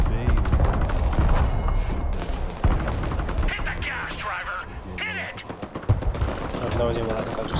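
Artillery direct fire in the war game Broken Arrow: dense, loud gunfire and heavy booms crowd the whole stretch, with bursts and blasts overlapping under game radio chatter and voices.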